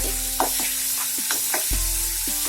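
Lotus stem pieces coated in paste frying in a pan, a steady close sizzle with a few scraping stirs, no voices.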